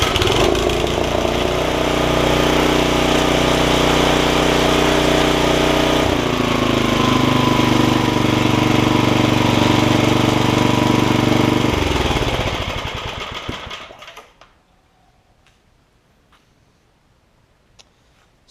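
A Snapper tiller with a 5hp Briggs engine runs loud and close at a steady throbbing idle that shifts pitch once, then is shut off and fades to near silence for the last few seconds.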